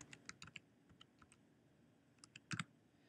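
Someone types a password on a computer keyboard, with scattered, irregular key clicks and a small burst of louder taps near the end, close and quiet with no talking.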